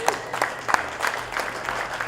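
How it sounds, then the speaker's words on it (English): A burst of audience applause, scattered claps rising into a steady patter with a few louder hits. "everybody give Dhani Jones a round of applause"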